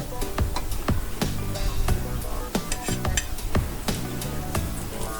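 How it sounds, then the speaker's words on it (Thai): Pork pieces grilling or frying in a pan to make a spicy grilled-pork salad, with a continuous sizzle and repeated sharp metallic clanks of a utensil against the pan, close and fairly loud. "จากนั้นนำมาย่างหรือทอดนะครับในกระทะครับ ให้หอมๆนะครับ เอาให้ออกเกรียมนิดหน่อยนะครับ"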